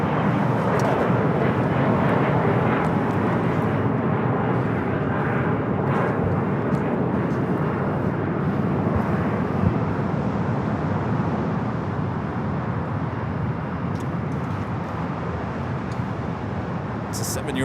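Korean Air Boeing 777-300ER airliner at LAX, a loud, steady jet engine roar that holds for the whole stretch, with faint talk beneath it.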